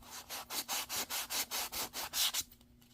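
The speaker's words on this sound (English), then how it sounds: "Might be able to do it okay with my sanding stick without too much problem." A sanding stick rubs back and forth on a paper envelope, about a dozen quick, even, close scratchy strokes in steady rhythm before stopping.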